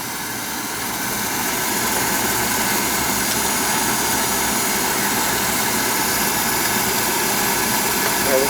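An old oil furnace burner fires up during a no-heat service call, a steady roaring rumble with a constant hum that swells in over the first seconds and then runs evenly, close and loud.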